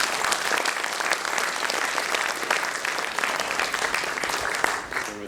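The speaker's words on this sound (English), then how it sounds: "Give her a round of applause." An audience claps steadily for a volunteer coming up on stage during a chair routine, with dense, sustained applause that tails off toward the end.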